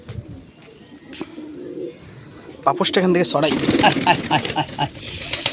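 Pigeons coo and flutter nearby while a person speaks briefly; the birds grow louder and busier in the second half.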